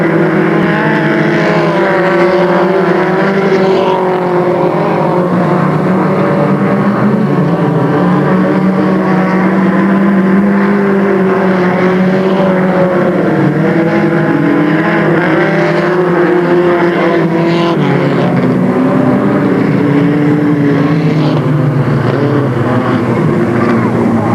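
Race cars roaring through the final lap at Delta Speedway, a 1996 stock car event, with the engine drone loud and steady throughout, pitch shifting as the pack passes, and no voices over it.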